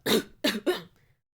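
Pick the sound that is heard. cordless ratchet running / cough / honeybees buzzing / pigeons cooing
cough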